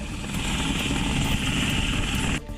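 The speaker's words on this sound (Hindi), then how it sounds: "रुद्र हेलीकॉप्टर प्रहार फॉर्मेशन में उड़ान भरते हुए दुश्मनों का दिल दहला रहे हैं" Indian military Mi and Rudra helicopters fly in formation, a loud, steady rotor and engine roar that holds constant before cutting off abruptly near the end.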